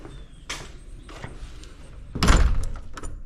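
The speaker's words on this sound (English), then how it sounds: "we got the two garage doors. They lock." A garage door is pulled shut and locked, giving a few dull knocks and then a loud heavy slam with a rattling thud near the end, close by with no talk.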